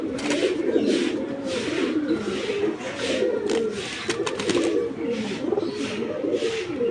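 Giribaz high-flyer pigeons cooing close by, a continuous layered throaty burbling from several birds in repeating rolling phrases.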